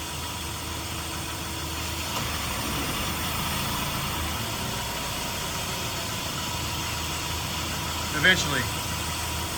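Steady low engine idle of a 2001 PT Cruiser with the air conditioner running, a constant fan-like whir throughout, a brief voice near the end.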